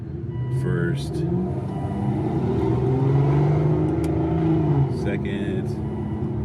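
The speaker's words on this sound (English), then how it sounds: "putting this thing in manual and shifting it through the gears" Aston Martin with a swapped-in V12 engine, driven in manual mode and shifting through the gears, its steady loud engine drone rising and falling with each change, interior cabin sound with a person talking over it.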